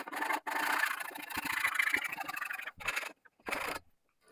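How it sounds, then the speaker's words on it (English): A hand pull saw works the crosscut side of its blade through wood being cut into oar shafts and blade pieces, giving steady rasping strokes for several seconds, then a short pause and a final brief burst, with no talking. "I'm using the pole saw with the crosscut side, and I'm going to follow the guidelines."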